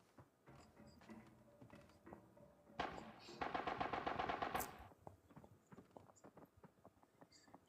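Bots running in the shooter Arena Breakout, heard as a burst of rapid, rhythmic footfalls that rises loudly for about two seconds mid-clip, with quieter clattering game noise before and after.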